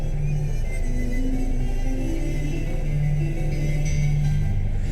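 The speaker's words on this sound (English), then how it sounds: "why is that car going away up there?" A car pulls away up ahead in a queue outside a fruit market, its engine a moderate rumble with rising and falling tones over steady background hum.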